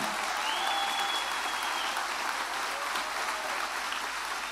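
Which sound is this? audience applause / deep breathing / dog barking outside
audience applause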